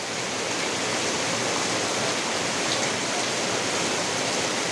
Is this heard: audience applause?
no